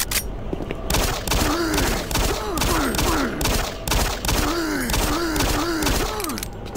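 Pistol fire rings out in Doom 3 in rapid, evenly spaced shots mixed with grunting, groaning creature noises over a constant game background.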